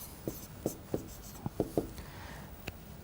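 Pen or chalk scratching out a math solution, a series of short, evenly spaced strokes with brief pauses between them, close and fairly quiet.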